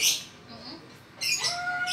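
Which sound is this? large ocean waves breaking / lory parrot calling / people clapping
lory parrot calling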